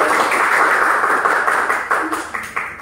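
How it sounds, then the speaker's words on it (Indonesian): Classmates in a classroom clapping together, a short burst of dense, fairly close applause that thins out toward the end. "tepuk tangan buat teman-temannya"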